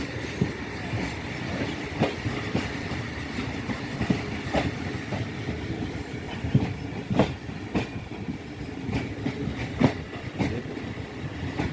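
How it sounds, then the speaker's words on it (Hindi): A train leaving Chaklala railway station bound for Mandra rolls with continuous rumble and regular clickety-clack wheel beats over rail joints, close and steady, with no voices. "उसके बाद जो है ट्रेन अपनी मंजिल पर रवाना होगी"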